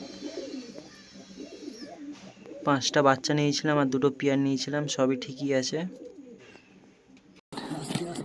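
Madras pigeons coo softly in the background, mostly masked by someone talking loudly close by.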